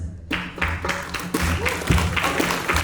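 Audience clapping for bidders at a Nova Ukraine charity gala auction, a short burst of brisk applause from a crowd in a hall, with a voice briefly heard over the clapping.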